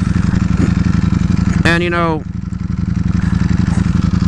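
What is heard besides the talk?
Ducati Panigale V4S motorcycle engine revving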